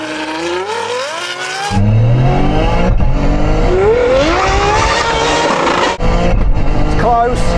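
A Ferrari Superfast and a 600+ bhp Toyota GR Yaris launching in a drag race, a loud engine surging from idle into hard revving with rising pitch sweeps through gear changes, heard close from inside a car.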